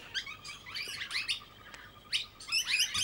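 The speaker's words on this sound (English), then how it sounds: "They also make a chee chee chee sound, nasal sound." Small bird giving a series of short, nasal chee calls in quick bursts, fairly close and alone against a quiet background with no talking.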